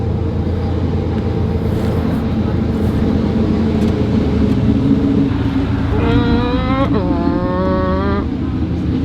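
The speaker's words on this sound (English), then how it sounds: "That's the sound of a V8." A movie hypercar's V8 biturbo engine running with a deep, steady rumble, then rising into a loud rev for a couple of seconds near the end, heard up close.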